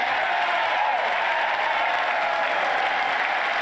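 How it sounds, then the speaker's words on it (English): Crowd noise from Republican members of Congress during a State of the Union address by Joe Biden, a steady dense wash of voices filling the chamber with no pauses. "the Republicans booing Joe Biden's comment about who benefited from Donald Trump's tax cuts"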